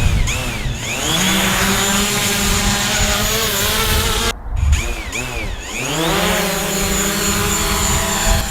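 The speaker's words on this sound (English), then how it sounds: "I've got the drone out." A camera drone flies near Del Rio, Texas, at sunrise, giving off a loud, close, high buzzing whine whose pitch swoops up and down as it maneuvers, with a brief dropout midway.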